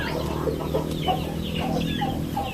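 Chickens about three weeks old cluck and chirp in short, repeated calls over a steady background hum in a poultry pen, fairly close but not loud.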